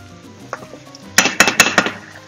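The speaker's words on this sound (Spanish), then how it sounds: "Removemos bien para que la leche coja el sabor de todo eso también." A spoon stirring milk into a ham croquette mixture in a pot, heard as a quick run of close, bright scraping clinks against the metal after a few soft knocks, with no talking.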